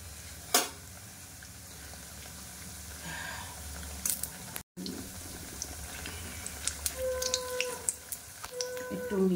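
Chicken frying in a pan gives a quiet, steady sizzle, with scattered small clinks and pops and a brief watery splash partway through.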